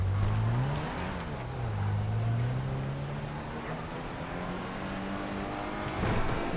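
A Ford Edge in GTA V drives along with a steady engine drone that rises and falls in pitch as it accelerates and eases off, close and continuous, with road noise around it.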